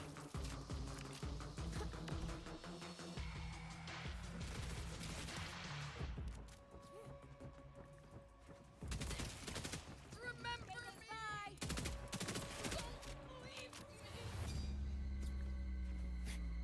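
Shotgun blasts in a video game come in rapid, loud bursts over dense layered game effects, with a short quieter gap partway through.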